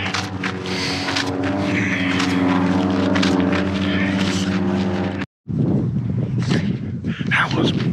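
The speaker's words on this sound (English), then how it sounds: "I just had 2 planes flying side by side, right next to each other, go overhead." Propeller planes drone overhead while someone walks outdoors. The engine hum is loud and steady, cuts out briefly, then returns fainter with some muffled rustle and voice-like sounds.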